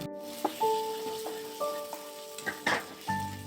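Spiced green pea filling for kachori fries in a pan with a little turmeric, a light sizzle punctuated by intermittent stirring scrapes, quiet and close, with faint steady tones in the background.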